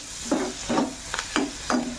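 Sugar being stirred into onions frying in a pan for a bitter gourd curry: five rhythmic scraping strokes of a spoon against the pan over a low, steady sizzle, close and clear, with no voices.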